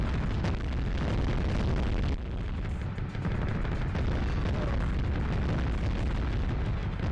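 Tank cannon fire in the PS1 game Mass Destruction, a continuous barrage of loud, booming blasts and explosions layered over one another with no pause, dense and distorted throughout.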